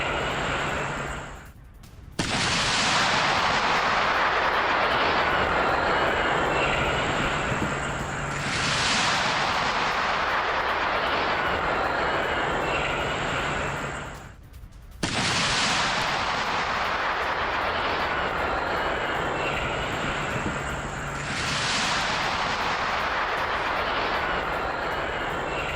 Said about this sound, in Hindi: रिहायशी इलाके में जोरदार धमाके हुए और इस हमले के बाद अफरा तफरी मच गई।